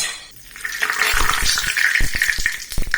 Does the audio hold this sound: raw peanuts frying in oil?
yes